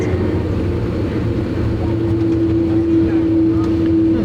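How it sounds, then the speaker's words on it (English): A Finnair Airbus A330 taxiing toward the runway, heard from inside the cabin as a loud, steady engine drone with a sustained whine, a faint voice underneath. "Taxiing off to runway."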